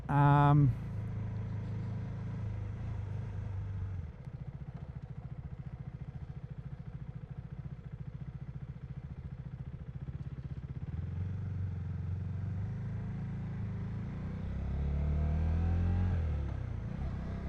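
A motorcycle engine rumbles at low revs in heavy traffic, idling and creeping along with small throttle changes during low-speed maneuvering, swelling into a louder rev near the end.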